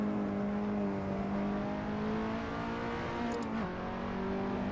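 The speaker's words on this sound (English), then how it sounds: "the engine note's coming from behind my head, even when I turn it" Car engine in the VR racing game Assetto Corsa, a steady droning hum held at a constant pitch that dips briefly near the end, loud and continuous with no voices.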